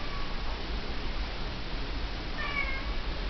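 A faint, short meow rises once against a quiet background of hiss.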